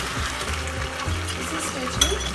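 Orange chicken sizzling in a hot pan while being stirred, a steady close frying hiss with soft scraping sweeps and a light clink near the end.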